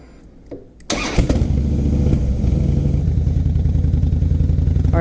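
A Harley-Davidson Fat Boy motorcycle cranks and fires up close by, with a brief starter whir followed by a loud, deep, lumpy V-twin idle that continues steadily.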